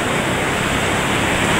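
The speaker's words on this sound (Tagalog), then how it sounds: "Medyo malakas yung alon na naman. Hindi pa kumakalma yung dagat." Strong sea waves roll in at high tide on a rough, stormy coast while fishing, a steady, loud, unbroken roar of surf with no talk.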